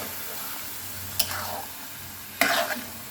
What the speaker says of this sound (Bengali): এখন আমি এটাকে ভালো করে নেড়েছে তেলের মধ্যে